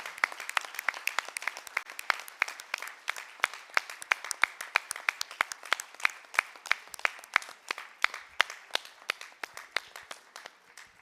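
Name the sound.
audience applause at security congress closing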